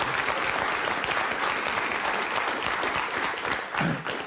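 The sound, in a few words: applause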